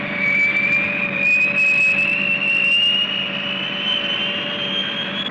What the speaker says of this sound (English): Also part of this massive strike force is the B-58.